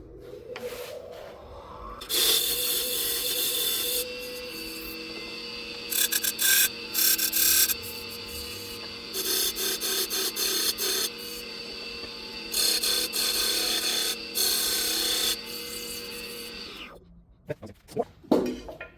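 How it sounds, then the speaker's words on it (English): Rough, rhythmic rasping of hand sanding on a wooden cell phone amp, strokes repeating steadily for several seconds with brief pauses, close and fairly loud. "So, more sanding."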